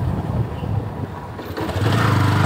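A motorcycle engine runs close by with a steady buzzing drone, its tone shifting partway through as the rider changes down a gear, then pulling on louder and lower.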